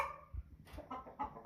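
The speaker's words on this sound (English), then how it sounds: "see if I can get this hen to be quiet" An American Bresse hen clucks several times in short bursts, fairly quiet and nearby.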